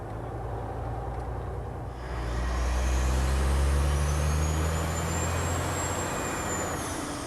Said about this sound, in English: Empty pipe truck crossing the bridge at Char Creek